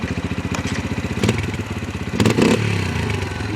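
Dirt bike engine starting first time and settling into a loud, rapid putter close by, with a couple of brief revs and clattering bursts along the way.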